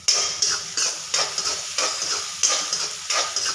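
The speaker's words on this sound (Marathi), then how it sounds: "तर व्यवस्थित भाजून घ्यायचा कांदा खूप करपवायचा नाही, लाल बुंद करून घ्यायचा" Chopped onion fries in a pan for soft upma, giving a loud, close hissing sizzle broken by regular stirring scrapes about every half second. No voice is heard.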